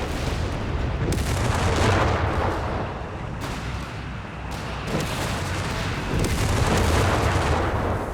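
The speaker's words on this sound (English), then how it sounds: "Mortar barraging the LEIG and the LEIG barraging it in 10" A mortar and LEIG artillery barrage in Company of Heroes 3 pounds on without pause, loud and continuous with overlapping booms and gunfire, several sharp impacts standing out.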